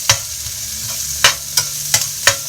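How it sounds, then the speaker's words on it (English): Onions and squash fry in a pan for a squash and bean soup as a metal spatula scrapes and clacks against it in about six sharp, irregular strokes over a soft, steady sizzle. "You just keep them jumping around with your metal spatula or your metal spoon."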